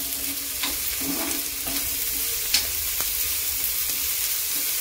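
Onions sizzle steadily in a hot pan while being sautéed for a dried shrimp and potato dish, with a few faint scrapes of stirring over the continuous frying hiss.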